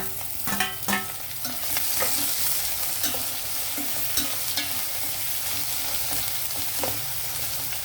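Plantain and drumstick pieces fry in a hot pan with a steady sizzle, while a utensil stirs them with scattered scraping knocks and clinks; no speech is heard.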